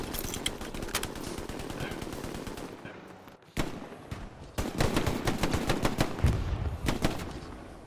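Machine gun fire in the World War II shooter Hell Let Loose, long sustained automatic bursts of sharp rapid rounds, close and loud, with a short lull midway before firing resumes.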